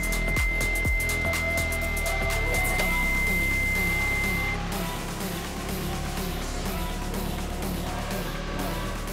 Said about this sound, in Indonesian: untuk antena pun dia masih naik turun sendiri tuh